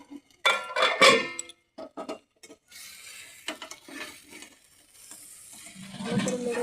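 Food being stirred in a cooking pan after the lid comes off, with intermittent scraping and clinking of a utensil and a soft sizzle between strokes, close and uneven.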